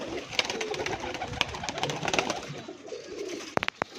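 Pigeons kept in a pen at a breeder's yard coo and rustle, with soft calls and sharp clicks of wings and movement scattered throughout, a few louder snaps near the end, no talking.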